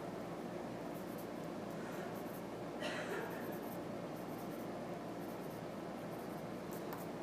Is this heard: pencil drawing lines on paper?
yes